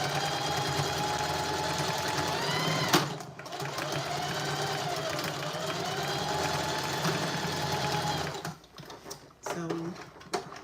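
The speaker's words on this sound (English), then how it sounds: "I just stitch back and forth just to make sure there's enough stitches to hold it." A domestic sewing machine runs steadily while stitching back and forth through a fabric tote bag, a fast continuous mechanical whir, then it stops and a few short bursts and clicks follow near the end.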